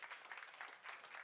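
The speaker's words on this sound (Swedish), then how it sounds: "Ge en varm applåd." A crowd applauds at a panel event on energy security and total defense in Sweden, dense continuous clapping at moderate volume with no voices.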